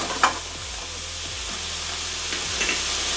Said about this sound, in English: Now I'm going to go ahead and add my garlic and my ginger.